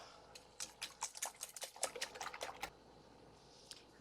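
Eggs whisked briskly in a bowl for egg muffins, with salt added, giving a rapid run of close, clicking metal-on-bowl strokes that bunch into loud bursts, then trail off into a couple of isolated taps.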